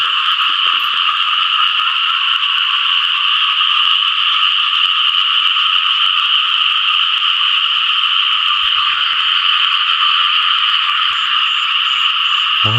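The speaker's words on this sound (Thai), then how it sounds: "มีกบด้วย" Frogs and small paddy frogs croak together during a frog-catching outing, forming a loud, continuous chorus that runs unbroken throughout.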